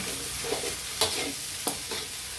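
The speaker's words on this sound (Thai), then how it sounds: "เราก็ผัดไปแบบนี้สักสิบนาทีนะคะเพื่อนๆหรือว่าจนกว่าเราจะพอค่ะ" Fresh bamboo shoots and egg are stir-fried in a pan with a steady close sizzle. Two or three sharp scrapes of a spatula against the pan break through the frying.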